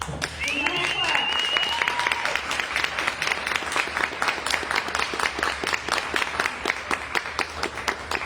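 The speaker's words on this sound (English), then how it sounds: "Give her a hand clap." An open mic audience claps for a performer, a dense, loud wash of applause running steadily throughout with a few whoops and voices mixed in near the start.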